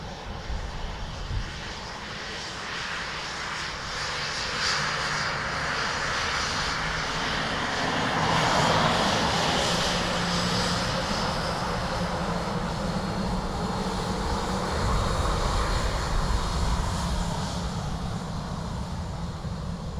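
A fixed-wing airliner's engines roar steadily at Dublin Airport, a loud, continuous, broadband rumble that swells slightly midway and holds for the full stretch, heard at close range with no speech.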